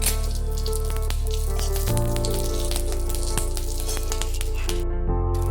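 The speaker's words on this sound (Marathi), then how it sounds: "आता या मिरच्या भाजून घेऊ. मिरच्या भाजताना थोडं तेल टाकणार आहोत." Green chilies roast in oil in a pan, giving a steady, loud sizzle and crackle throughout, with a few sharp pops and clicks scattered over the hiss and no voices.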